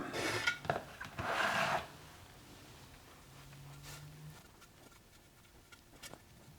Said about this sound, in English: So I've got another pot here and a bigger brush. Let's go ahead and brush it on.